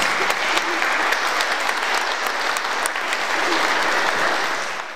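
An audience at a concert applauds vigorously, a dense steady wash of many hands clapping that holds strong throughout and only begins to thin at the very end.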